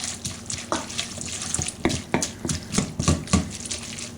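Cooked spaghetti tossed with orange liquid watercolor, giving soft wet squelching and stirring clicks in a steady uneven rhythm, close and fairly quiet.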